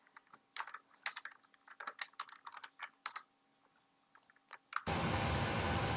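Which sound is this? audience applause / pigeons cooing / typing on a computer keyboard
typing on a computer keyboard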